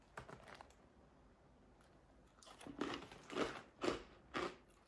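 Crisp crunching bites close to the mic, a few sharp crackly chews in quick succession after a quieter start.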